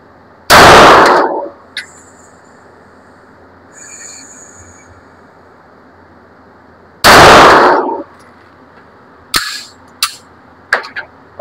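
Two loud, close gunshots from an Armscor STK100 pistol firing reloaded ammunition, several seconds apart, followed by a few sharp clinks and small knocks with quiet outdoor ambience between.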